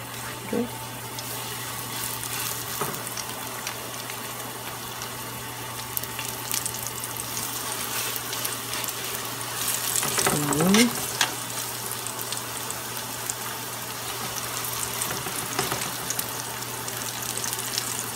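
Chicken breast pieces sizzle while browning in a frying pan, a steady close frying hiss for several seconds with occasional utensil scrapes and a brief louder burst midway.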